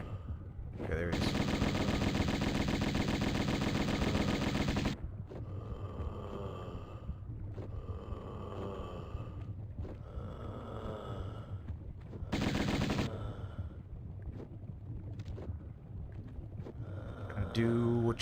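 Gunfire from the 1996 Tomb Raider video game comes as rapid automatic bursts, two long loud volleys with quieter shots and game sounds between them and another burst at the end.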